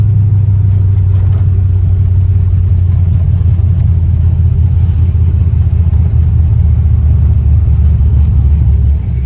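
An LS-swapped 1957 Chevy Bel Air idles with a deep, steady exhaust rumble, loud and close, holding an even throb without revving for several seconds.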